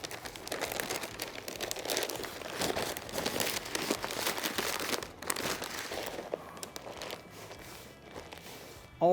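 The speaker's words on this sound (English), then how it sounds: "I'm going to wrap them up in some butcher's paper" Butcher's paper crinkles and crunches as beef ribs smoked on a kettle grill are wrapped, a busy run of close rustling and folding that eases off near the end.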